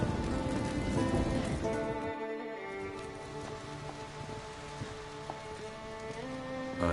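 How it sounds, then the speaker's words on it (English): Heavy rain pours steadily in the video game Witcher 3, a dense constant wash across the whole stretch, with game music tones layered over it. "Raining fucking buckets."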